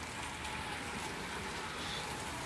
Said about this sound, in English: It's raining soft now.